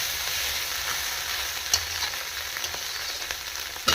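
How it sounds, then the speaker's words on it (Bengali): Small fish fry in a pan in a home kitchen, a close, steady sizzle with occasional crackling pops and stirring clinks, no voices. "এই যে ছোটো মাছ ভাজা,"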